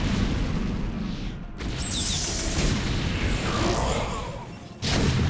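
Siege tanks firing on a Protoss Nexus in a StarCraft match, a continuous roar of heavy booming blasts and crumbling impacts, with a sharp new blast near the end.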